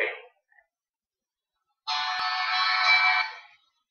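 A telephone ringing once as a single burst of electronic ringing, clear and close, after a short stretch of silence.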